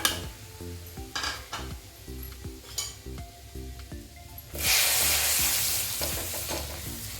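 Spices go into a sizzling pan for a masala gravy. First come rhythmic metal stirring clinks over a gentle fry, then a sudden loud, sustained sizzle surges as they hit the hot oil.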